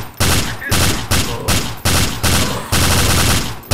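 Rapid bursts of gunfire from the zombie shooter video game Brain Bread 2, loud, close and repeating in a steady rhythm of about eight short volleys with brief gaps between them.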